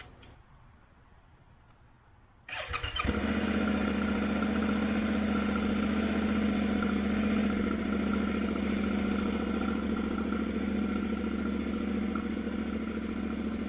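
A Yamaha Tenere 700 motorcycle engine cranks and fires after a quiet start, then settles into a steady, loud idle that runs unbroken close by.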